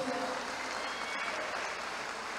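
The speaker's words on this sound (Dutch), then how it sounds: "Dat is Regilio, mag ik een applaus?" Applause from an audience at a community gathering in Suriname, a steady broadband wash of hand claps lasting a couple of seconds at moderate level with no clear gaps.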